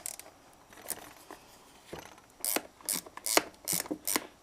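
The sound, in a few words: ratchet wrench turning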